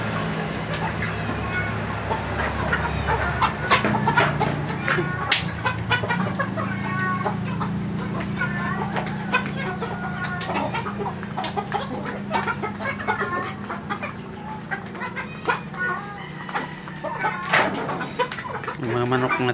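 Large Chinese chickens clucking in a mixed flock, a busy chorus of close clucks and squawks running throughout, with a person talking over them at times.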